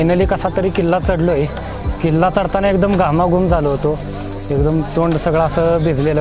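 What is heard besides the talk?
crickets chirping in the jungle at Vasota fort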